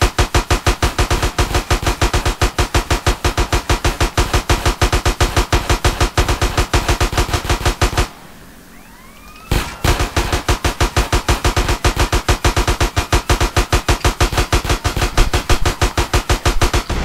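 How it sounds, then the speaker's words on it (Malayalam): Rapid automatic gunfire in the video game GTA San Andreas near a police station, loud, steady bursts of shots with one brief pause, then more firing. "ഓ ഇവിടെയും വെടിയാണല്ലോ."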